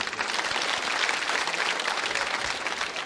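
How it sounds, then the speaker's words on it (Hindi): Studio audience at a school quiz show bursts into steady, dense applause for about three seconds, a broad wash of clapping with no voices. "अब चलिए तालियां तो बजाई दीजिए"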